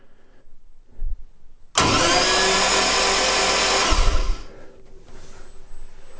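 A starter abruptly cranks an engine on a Wratchet hooked to an Infinity ECU for sensor testing, a loud sustained whirring churn lasting a couple of seconds before cutting off, with faint knocks before and a lingering hum after.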